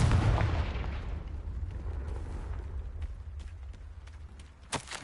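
A Confringo fire spell in Hogwarts Legacy explodes with a loud, rumbling boom at the start, its heavy roar decaying over several seconds, followed by scattered crackles and a sharp burst near the end.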